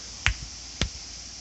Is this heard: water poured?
no